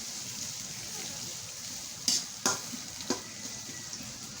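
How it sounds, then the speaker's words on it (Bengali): Onions fry in a pan, stirred until they turn brown, with a soft continuous sizzle broken by three distinct clanks of the spoon against the pan near the middle. "আমরা পেঁয়াজটা বাদামি রং না হওয়া পর্যন্ত আমরা নাড়াচাড়া করতে থাকবো, যাতে করে এটা পুড়ে না যায়।"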